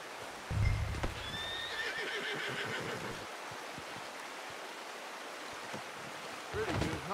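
A horse whinnies loudly near the start in Red Dead Redemption 2, over a steady rushing, wind-like ambience with faint hoof clops and a snort near the end.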